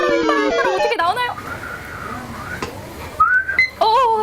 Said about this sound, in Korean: 이제 휘파람만 불면 돼요